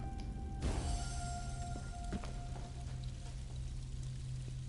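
Water pours steadily in the ESO puzzle game, a continuous splashing stream that carries on throughout with a brief sharper splash early on, with no talking.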